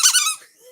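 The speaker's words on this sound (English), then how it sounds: "Danny, you get a squeaky." A single squeaky toy sound effect played on a travel podcast, a bright, high rubbery squeak under a second long, loud and alone.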